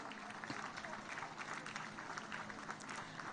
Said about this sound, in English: I humbly want to crave the indulgence for us to applaud His Excellency Nana Addo Dankwa Akufo-Addo for his leadership